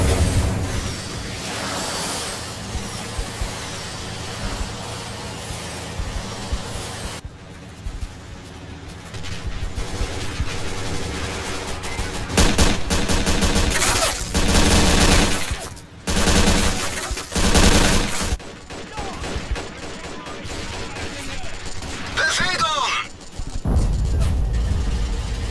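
Rocket artillery in the World War II strategy game Men of War, set at Prokhorovka: dense bursts of rapid, rattling fire and booming blasts. Loud volleys rise and drop away repeatedly against a constant din of battle.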